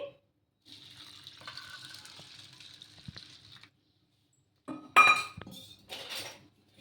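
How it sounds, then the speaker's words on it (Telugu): Water runs from a tap for a few seconds onto a cup of oats to soak them, then dishes clatter and clink briefly; no voices. "ఒక కప్పు నీళ్లు వేసుకొని నానబెట్టేసుకోవాలి"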